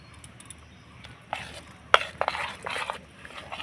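A spoon stirs a snack batter with chopped coriander leaves in a bowl, giving a few short, scraping swirls and light utensil clinks over a quiet background.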